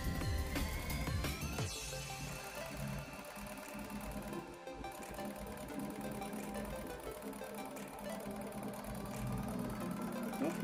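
Singer 2431K industrial overlock sewing machine running under the pedal, a fast dense mechanical whir and rattle that starts abruptly and continues steadily, close and loud.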